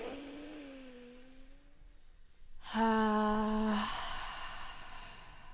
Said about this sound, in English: The next one, make the exhale a little bit louder.